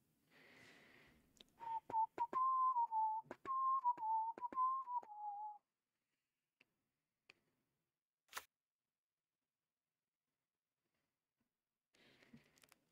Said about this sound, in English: I just started whistling a lit song